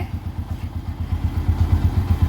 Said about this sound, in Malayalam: അച്ചായി വരുന്നുണ്ട് വാവ് സൂപ്പറായിട്ടുണ്ടല്ലോ ഇത് നമ്മുടെ കണ്ണൻ്റെ വണ്ടിയാണേ